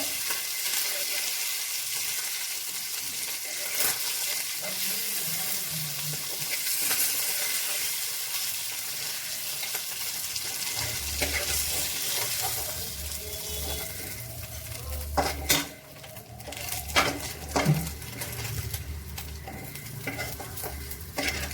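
Fish frying in a pan for a home-style lunch, a close, steady crackling sizzle joined by stirring scrapes and a few clinks of utensils, with a deeper rumble building in the second half.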